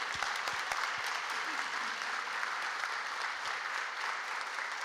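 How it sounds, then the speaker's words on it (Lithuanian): An award ceremony for innovative teachers erupts into dense, sustained audience applause, with many hands clapping steadily and loudly for about five seconds without a break. "Gal padėsite man plojimais"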